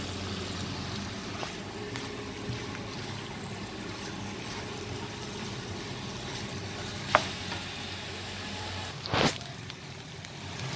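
Rabong, sliced bamboo shoots, stir-fried in a pan, giving a continuous close sizzle with occasional stirring scrapes and a couple of sharper clinks and a brief louder burst of sizzling near the end.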